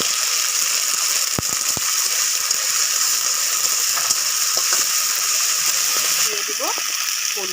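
Garlic, cumin and dried chili pastes sizzle steadily in a pan while being stir-fried, a continuous bright hiss with occasional clicks and scrapes from the spatula, close and even throughout.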